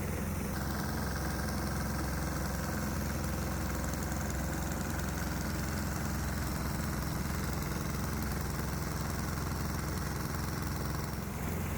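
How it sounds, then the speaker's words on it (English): A 196 cc 3 hp diesel engine idles while warming up, a steady, unbroken close drone with a fine rapid chug throughout. "So the engine's still warming up, and already we can see the exhaust gas temperatures are on the rise."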